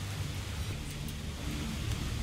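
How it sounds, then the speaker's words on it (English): A rainstorm in The Solus Project video game, with a continuous hiss of heavy rain and a low rumble underneath. The downpour holds steady throughout and is heard alone. "The storm is picking up."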